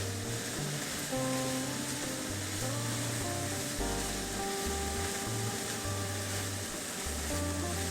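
Beans and carrots drop into a sizzling stir fry of jicama with shallots or onions, pork and prawns, giving a steady loud frying crackle with low clattering bursts of stirring throughout.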